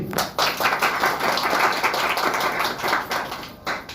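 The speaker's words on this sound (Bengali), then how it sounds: "আমরা মেয়ের সম্মতি পেয়েছি একটা তালি দেই" Wedding guests clapping together in a burst of applause lasting several seconds, dense and fairly loud, rising and dipping slightly before it tapers off, with faint voices mixed in.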